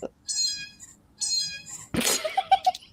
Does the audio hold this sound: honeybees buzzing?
no